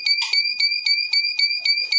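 A loud, shrill electronic alarm from a homemade PIR motion sensor beeps in a fast, steady pulse, repeating about every quarter second with a piercing two-tone whine.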